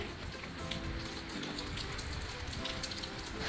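Steady rain falls outdoors on wooden Trek decking at a house in Richmond, Virginia, making a dense, even patter that continues throughout without voices.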